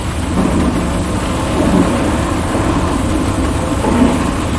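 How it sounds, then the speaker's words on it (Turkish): Steady heavy rain hisses continuously with low rumbling underneath, like distant thunder, in the video game GTA 5, filling the whole stretch without any talking. "Bu arada yağmur çok geliyorsa arkadaşlar özür diliyorum."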